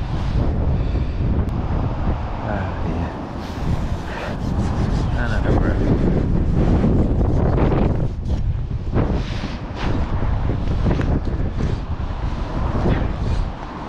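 Strong, steady wind buffets the microphone at a fishing lake on a cold day, a loud continuous roar with gusting swells throughout and a voice faintly underneath.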